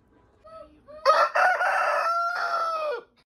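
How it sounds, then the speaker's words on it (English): A rooster calls close by, starting with a few short clucks and then breaking into a loud, drawn-out crow, with no voices. "So this is my rooster Toothless."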